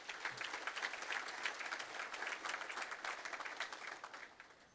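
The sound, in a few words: audience applause for sponsors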